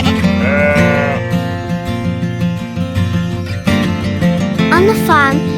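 Farm sheep bleat loudly and close, several overlapping wavering cries running without pause, with a few higher quavering calls rising toward the end.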